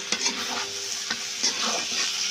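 Spice masala with salt sautéed in a pan for chicken and potato curry, a close steady sizzle broken by several sharp spatula scrapes and stirring strokes, no speech.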